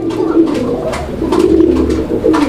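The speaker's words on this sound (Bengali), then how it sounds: "কবুতর কিন্তু ডাকতেছে" Koka pigeons, an original Basiraj Koka pair at a fancy pigeon sale, coo in low repeated throaty calls close by, several overlapping phrases over a constant background murmur.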